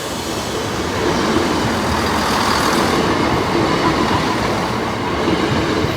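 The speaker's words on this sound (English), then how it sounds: "I think the train's here now." A loud, steady train rumble at Lincoln High Street level crossing fills the whole stretch, a continuous roar of rolling wheels and rail noise close by, with no talking.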